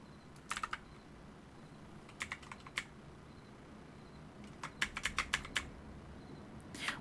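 Faint keystrokes on a computer keyboard during a game session arrive in scattered clusters, a few quick taps early and a longer run of clicks later, over a soft steady hum.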